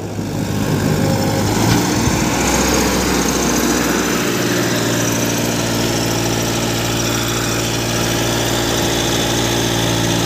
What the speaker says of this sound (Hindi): पूरे पावर के साथ चल रहा है ट्रैक्टर।